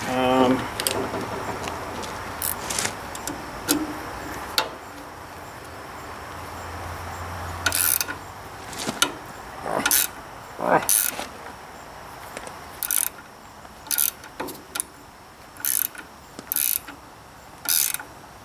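Ratcheting and clicking of a wrench tightening a tie rod on a 1944 Ford 2N tractor, short bursts of metallic clicks spaced irregularly, close and fairly loud, with some quiet talk.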